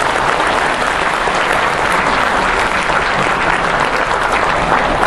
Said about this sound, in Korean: 그도 우리 손세일 선생님의 강연에 감사를 드립니다. 박수 좀.